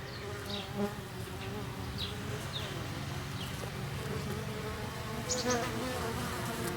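Dense, steady buzzing of many honeybees around a hive in November, close by, with individual drones droning past now and then.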